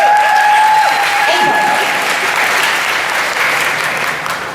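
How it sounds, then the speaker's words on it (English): A Supernatural fan convention crowd in New Jersey breaks into loud, sustained applause filling the hall, with scattered whoops and cheers mixed in before it gradually thins out. "Yeah, you can applaud that."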